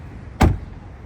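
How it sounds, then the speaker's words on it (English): A 2025 Tesla Model Y door shuts with a single solid, deep thud, close and loud, with quiet cabin air before and after. "How solid it feels when you close the door."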